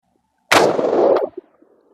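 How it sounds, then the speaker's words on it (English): One loud .22 ARC rifle shot fired close by, a sharp crack followed by a short booming roll that dies away within about a second. "So let's shoot it at 60 and see what happens."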